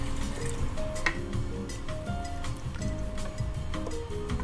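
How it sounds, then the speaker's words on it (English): Vegetable broth poured into a soup pot for a roasted yellow pepper and corn bisque, a steady liquid fill running through the whole stretch with faint drips and splashes over a busy background. "And we're also gonna add our vegetable broth."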